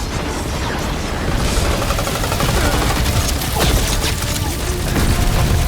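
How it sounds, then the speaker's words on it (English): Sustained stream of rapid gunfire laying down cover fire in Marvel's Guardians of the Galaxy, loud and dense throughout with crackling bursts and a busy battle wash, with a voice heard briefly. "I'll lay down some cover fire to get you across!"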